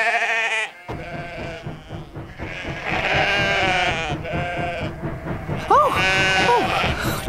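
Cartoon sheep bleat in a series of wavering, nasal calls over a busy animated soundtrack, several overlapping bleats rising and falling near the end.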